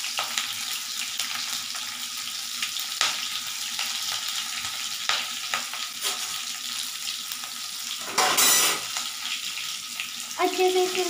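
Garlic and chili frying in hot mustard oil for a lady finger curry, a steady loud sizzle with occasional clinks and stirring scrapes and a brief louder hiss burst near the end, with no talking.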